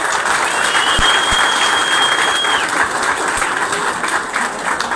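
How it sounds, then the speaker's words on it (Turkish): Sustained, dense applause from a large crowd at a store opening fills the space, steady and loud throughout, with a faint tonal whine briefly above it. "Sizden kuvvetli bir alkış alalım şimdi."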